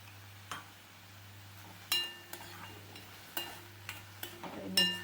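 Onions with salt being stirred in a frying pan: a few sharp metal clinks of a spoon against the pan over a low steady hum, with faint sizzling between the scrapes.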